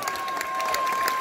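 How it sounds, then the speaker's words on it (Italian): Brief burst of crowd applause and some cheering for guitarist Federico Albasso at an outdoor concert on Locarno's Piazza Grande, with a sustained tone running underneath. "Innanzitutto farei un applauso a Federico Albasso."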